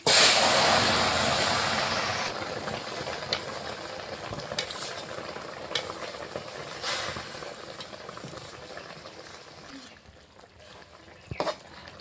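Spinach and fenugreek greens hit hot oil tempered with nigella seeds and dried red chilli, a loud burst of sizzling that settles into a softer ongoing hiss with scattered clinks of stirring.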